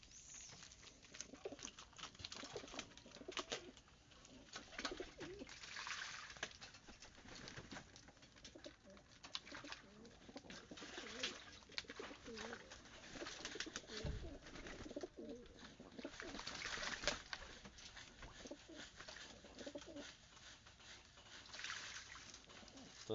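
Pet pigeons bathing in a water basin on a warm day, soft cooing and light splashing of wings in water continuing throughout, fairly faint and steady with outdoor background noise.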